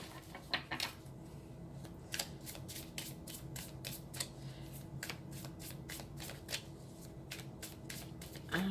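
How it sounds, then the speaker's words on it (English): Tarot cards being shuffled repeatedly, a quick series of crisp riffling snaps in bursts, close and fairly quiet, with no voices. "Let me get my cards shuffled up here really good."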